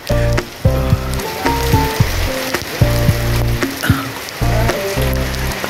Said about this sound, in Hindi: हाय राम, बहुत तेज बारिश होते हुए लगता है कपड़े ही बदलने पड़ेंगे।